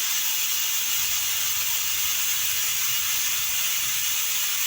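A pressure cooker on a gas stove, holding spiced brinjal, whistles with a continuous loud steam hiss and a rapid rattling, ratchet-like chatter from the weight, both steady throughout.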